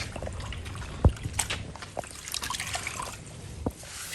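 A gloss black car wheel is washed by hand with a wet wash mitt using a rinseless wash solution, giving soft wet rubbing, squelching and light dripping trickles, close and fairly quiet.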